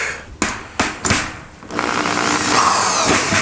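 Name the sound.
high-powered drill tightening snare drum head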